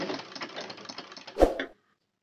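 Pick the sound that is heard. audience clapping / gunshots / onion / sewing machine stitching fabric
sewing machine stitching fabric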